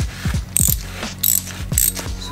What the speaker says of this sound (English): To remove your oil filter,